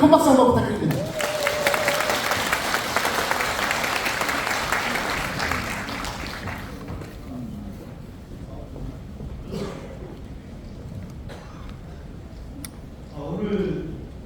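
An audience at an indoor political party convention applauds at length, a dense wash of clapping that fades after several seconds, followed by someone speaking over the room.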